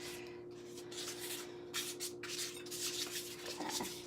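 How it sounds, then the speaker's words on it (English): A baking pan for a keto bacon cheeseburger casserole is rubbed with grease, giving soft, faint scrubbing strokes in an uneven rhythm over a low steady hum. "now what we're going to do is we're going to grease the pan again"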